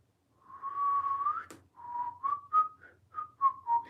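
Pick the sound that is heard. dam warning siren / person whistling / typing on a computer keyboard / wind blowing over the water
person whistling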